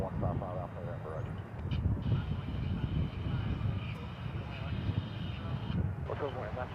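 A plane takes off at DFW Airport as a steady, low engine roar, while a voice from an air-traffic radio chatters over it.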